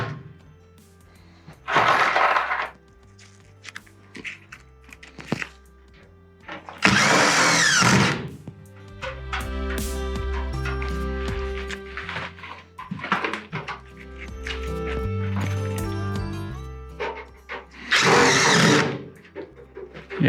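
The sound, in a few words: power drill driving screws into fireplace wall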